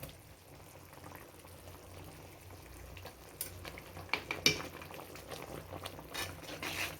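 Fenugreek, asafoetida and mustard seeds fry in hot oil for a homemade fish pickle, giving a soft continuous sizzle with scattered pops and crackles that grow louder toward the end.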